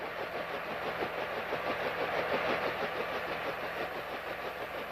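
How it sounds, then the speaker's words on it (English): The piston engine of a Bell H-13 helicopter in Heliborne runs at a steady idle, giving a continuous throbbing drone with a fast regular pulse that holds even throughout. "This is an H-13."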